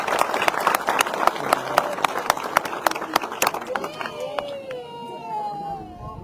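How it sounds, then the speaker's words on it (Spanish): Crowd applauding a minister at a farewell gathering in San Andrés Itzapa, Chimaltenango, with sharp scattered claps over murmuring people, thinning out toward the end as voices continue. "Un aplauso para el ministro,"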